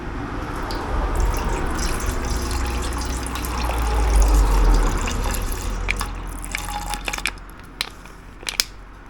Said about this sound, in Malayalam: ഇനി ഈ 3 ലിറ്റർ വെള്ളത്തിലേക്ക് ഈ ഫ്ലൂയിഡ് മിക്സ് ചെയ്യണം.